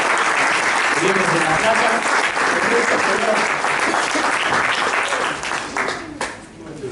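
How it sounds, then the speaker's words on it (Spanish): An audience applauds to welcome a professor arriving at a talk on an industrialist's biography, sustained dense clapping that fades near the end, with someone speaking over it. "vamos a darle un aplauso"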